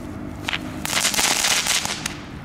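Aldi consumer fireworks going off outdoors at New Year: a brief crackle, then a dense burst of loud crackling pops that sputters out, with a final sharp pop near the end.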